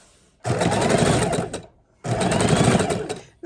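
A sewing machine stitches quilt blocks in two loud, rapid bursts of about a second and a half each, with a short pause between them as it backstitches.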